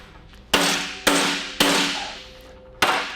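Hammer striking a properly welded metal piece held in a clamp, four loud ringing clangs at uneven intervals, each decaying with a metallic ring.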